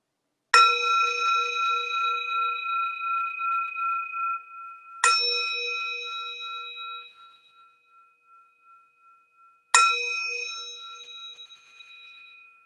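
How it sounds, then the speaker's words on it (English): Meditation bell struck three times to begin a mindfulness practice, each clear ringing strike followed by a long shimmering decay into silence, evenly spaced and alone. "I will ring the bell"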